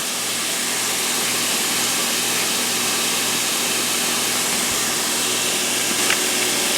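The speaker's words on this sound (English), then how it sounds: "And while that's sauteing" Garlic and onions sauté in olive oil in a pan, giving a steady, loud, broadband sizzle that hisses evenly without a break and has no talking over it.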